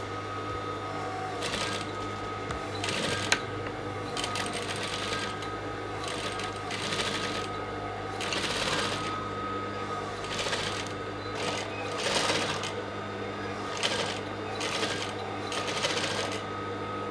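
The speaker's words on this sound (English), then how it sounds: "So the next step is to top stitch on the lining." A sewing machine topstitches the lining of a native Yoruba fila cap of aso oke cloth, a steady close mechanical whir running throughout with recurring louder bursts as the stitching speeds up.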